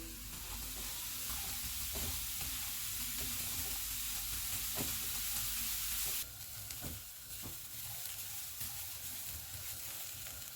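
Cauliflower florets fry in a pan over medium-high heat, giving a dense, even sizzle with scattered light taps and stirring scrapes, a brief drop in hiss partway through, no voices.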